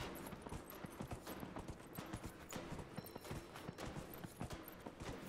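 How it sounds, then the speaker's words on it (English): Rapid clip-clop of a horse galloping in the video game Dragon Age: Inquisition, with a steady drumming of hoofbeats that runs continuously and fairly loud, without pauses or talk. "It seems the horse can just gallop"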